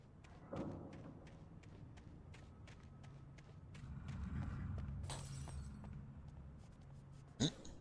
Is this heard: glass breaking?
yes